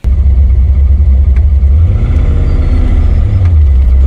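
Loud, close rumble of an LS V8 swapped into a Porsche 914 at a drag strip, its low engine drone swelling and shifting pitch as it revs, continuous throughout with no talk.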